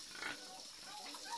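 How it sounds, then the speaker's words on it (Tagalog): A two-month pregnant pig grunts in short, low bursts close by, with noisy background sound throughout the brief moment. "ito na po yung ating 2 months old pregnant po na baboy"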